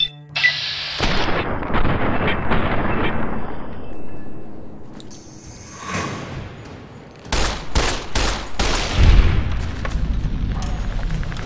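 Gunfire rings out in Fallout: New Vegas: a sustained rumbling battle din, then a rapid cluster of loud, sharp shots followed by continuing booming fire.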